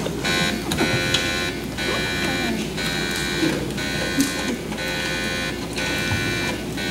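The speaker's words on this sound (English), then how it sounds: "Sound the gong, Wilson" A repeating alarm gong rings out during a school stage production of the play "Harvey", sounding in loud, rhythmic bursts about once a second, steady across the clip under faint room noise.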